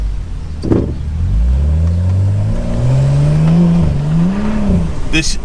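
A car with a BootMod3 beta transmission flash tune accelerates through the gears, engine note rising in pitch, dropping at each shift, then climbing again, loud and close from inside the cabin with a brief sound near the end.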